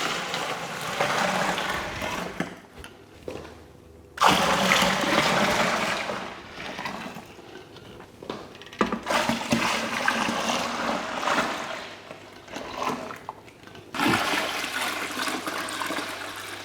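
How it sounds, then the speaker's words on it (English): Tap water gushes into a home-brew beer fermenter being filled to 23 litres, a loud, rushing pour that surges and eases in several bursts with short lulls between them, heard close and without talk. "So now I'll just fill up the fermenter to 23 litres."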